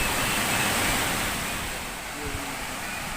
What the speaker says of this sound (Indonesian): air terjun atau Curug Pasir Kutu teman-teman